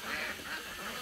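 Ducks running down from a pond and quacking close by, a continuous noisy chorus of overlapping calls with no clear pauses.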